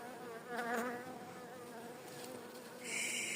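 Many honeybees buzz continuously close by at a hive, a dense droning hum with individual insects whining louder as they pass.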